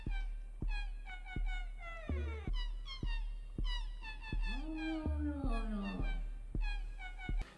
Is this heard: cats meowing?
yes